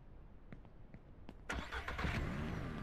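A car engine in the Ranch Simulator farming game cranks with a few soft clicks, then catches and settles into a steady running rumble, heard on its own.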